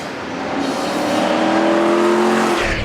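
A Porsche 944 with a swapped-in LS V8 roars at full throttle, the engine note building and climbing loud and close for a few seconds, with no talking.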